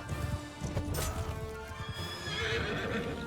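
A horse neighs and hooves clip-clop during a Mount & Blade II: Bannerlord battle with the Calradia Expanded mod. A whinny rises over the scrambling hoofbeats and clatter, with a faint crash mixed into the fairly quiet game audio.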